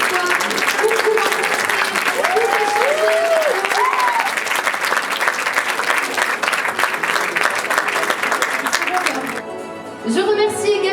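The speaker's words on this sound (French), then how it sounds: "vous pouvez les applaudir bien fort" A festival audience applauds the directors loudly with dense, sustained clapping and crowd noise, music tones gliding underneath, before the applause cuts off abruptly near the end.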